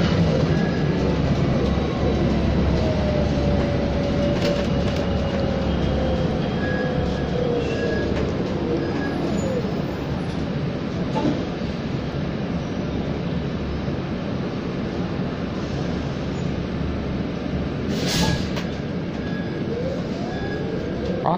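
A Valley Line LRT light-rail train passes during test running along 102nd Street, a steady rumbling roll with faint wheel squeal and clatter, heard at moderate distance amid continuous street background for the whole stretch.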